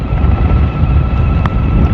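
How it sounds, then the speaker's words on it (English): Loud, constant low buffeting wind roar against the microphone as a rider cruises at about 33 mph on a Tamobyke TB20 e-bike in a crosswind. "The wind's cutting into the side of me."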